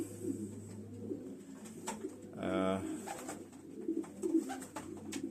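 Domestic pigeons coo in a loft at the end of the racing season, low soft calls under steady background noise, with a person speaking briefly nearby.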